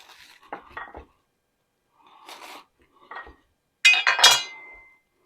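A knife cuts a ribeye steak on a plate, giving scattered scrapes and clinks of cutlery against the dish in short bursts, the loudest near the end, with no talk.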